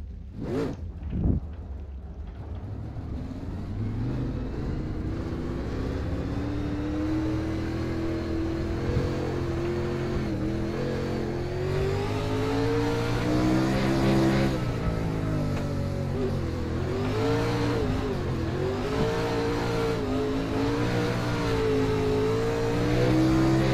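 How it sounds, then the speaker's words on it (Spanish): A sprint car engine in the DiRT racing game revs steadily and loudly for the whole stretch, its pitch rising and dipping as the throttle changes, heard alone without talk. "ya estamos con el sprint car grabando"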